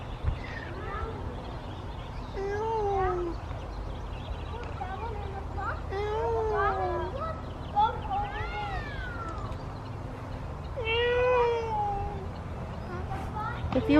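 A voice imitates a peacock call at an arboretum, giving a series of rising, wailing cries at irregular intervals over a low outdoor background hum.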